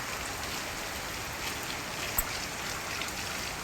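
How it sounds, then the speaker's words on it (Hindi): Heavy rain pouring down in an unbroken, dense hiss at steady loudness, with a single faint tap partway through. "ये सावन के महीने से भी ज़्यादा बारिश लगी है।"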